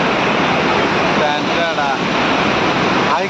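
River water pours past the Jog waterfall in a loud, steady rush that fills the whole stretch without a break, with a faint voice surfacing briefly midway.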